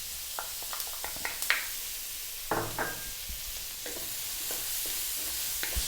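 Beef fried rice with carrots is stirred in a wok, a spatula scraping and knocking in irregular bursts over a faint background sizzle, with no talking.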